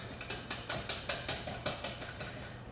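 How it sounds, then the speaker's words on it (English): A whisk beating batter in a bowl during a low-calorie baking demo, a brisk run of about fourteen sharp, evenly spaced scraping taps close up, with no talking. "we'll whisk them up just a little bit more"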